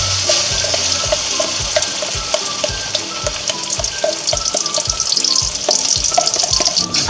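Spice paste frying in hot oil in a wok for a Betawi-style jengkol and anchovy balado, a loud dense sizzle with rhythmic scraping strokes of the spatula, steady and close throughout.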